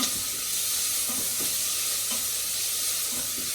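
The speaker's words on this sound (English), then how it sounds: "So I'm just stirring that in now on a high heat, sauteing this lightly." White bean and spinach soup ingredients sautéing over high heat while being stirred, a loud, steady, close hiss of sizzling with faint scraping underneath and no talk.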